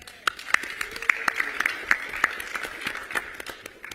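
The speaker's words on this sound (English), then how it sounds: "So give yourselves a round of applause." Applause from an audience, a steady patter of many hands clapping at moderate volume, with a few sharper claps standing out.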